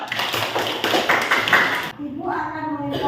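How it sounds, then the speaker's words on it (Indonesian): A classroom group breaks into brief applause, with a burst of scattered clapping under a voice, then the clapping stops and she keeps talking alone. "Berikan tepuk tangan dulu."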